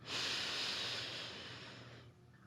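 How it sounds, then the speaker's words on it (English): One long, deep inhaled breath taken through the nose, close and airy, swelling quickly and then slowly fading over about two seconds with no talking. "We're going to take 3 deep breaths."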